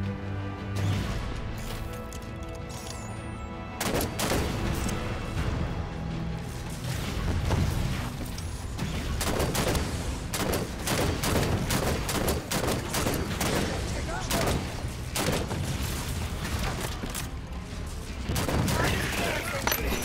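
Dense, loud bursts of turret gunfire from the video game Halo 5 Guardians, sustained rapid shots and crashes across the whole stretch with voices talking underneath.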